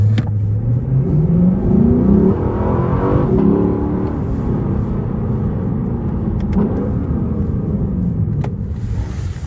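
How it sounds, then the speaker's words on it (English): A Lexus LC 500 driving slowly through a residential area, its exhaust giving a deep, loud rumble that rises and falls in pitch with gentle acceleration and shifts, close and without talk. "I'll let you listen to the exhaust again."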